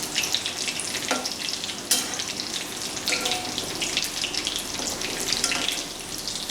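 Spring rolls made with manda patti wrappers crackle and sizzle in oil over moderate heat, a steady close, dense frying hiss with occasional bright pops and no talking.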